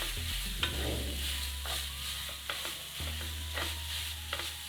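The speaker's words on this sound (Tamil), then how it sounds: "நான் ஒரு 2 மினிட்ஸ் மட்டும் இதில் வறுத்துக்க போகிறேன்." Paneer and masala roasting in a pan while being stirred, with repeated scraping strokes of a spoon over a continuous sizzle and a low steady hum from the stove.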